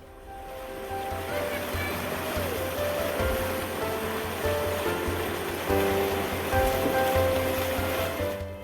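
A strong river current, the Nanga GT river, rushes steadily in a broad, continuous roar, loud and close, with faint tonal hum running under the water noise throughout.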